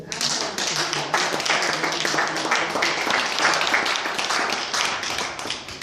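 A church congregation applauds throughout, a dense, steady wash of many hands clapping close by, with shouts and voices mixed into the crowd noise.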